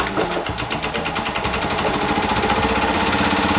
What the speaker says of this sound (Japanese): エンジン無事に動きました